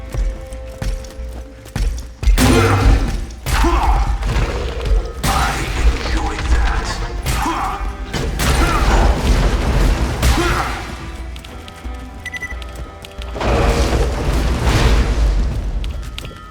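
Explosions in the video game Borderlands 2 burst out loudly in several heavy booms and rumbling blasts, mixed with mechanical clanks and gunfire-like pops across a busy, sustained stretch.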